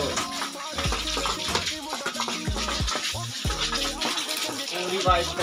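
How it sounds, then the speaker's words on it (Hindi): Water sprayed onto a motorcycle during a wash, a steady hissing gush close to the microphone, with short chopped breaks as the stream moves over the bike and bursts of other sounds mixed in. "पहले तो मारेंगे पूरा पानी"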